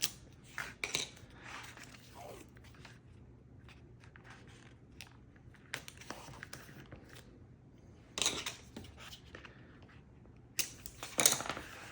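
Paper being trimmed with scissors while setting up a craft journal, scattered sharp snips and light rustles at irregular intervals over a quiet background, close and fairly faint, no talk.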